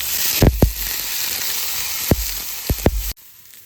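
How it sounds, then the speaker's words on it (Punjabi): Carrots, capsicum and peas sizzle steadily as they fry in a pan, with a few sharp clacks of stirring or utensil knocks standing out before the sizzle cuts off abruptly near the end. "ਹੁਣ ਆਪਾਂ ਇਹਦੇ ਵਿੱਚ ਸਬਜ਼ੀਆਂ ਐਡ ਕਰਨ ਲੱਗੇ ਆ"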